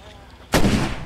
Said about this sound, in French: Ah, elle tire sur la horde